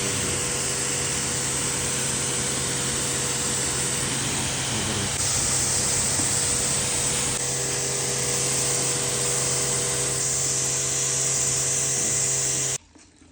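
Steady loud hiss of a pressurized water spray blasting a dirty AC coil during a service, continuous and close for the whole stretch before cutting off abruptly near the end.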